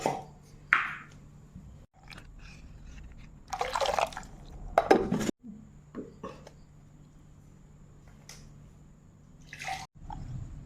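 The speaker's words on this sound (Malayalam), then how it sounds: "അരച്ചരപ്പ് ചട്ടിയിലേക്ക് ഒഴിക്കുന്നു" Ground coconut paste blended with tomato is poured from a mixer jar into a clay pot for tilapia fish curry, making wet, gloopy splashing and dripping in several intermittent bursts, close by and moderately loud.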